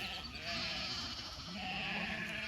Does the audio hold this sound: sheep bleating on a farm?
yes